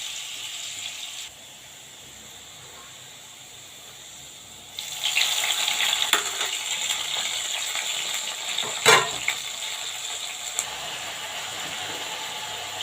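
Green chilies, onion and garlic fry lightly in a pan with a steady hiss, quieter at first and then swelling louder partway through, broken by a few sharp scraping clicks and one brief louder clatter.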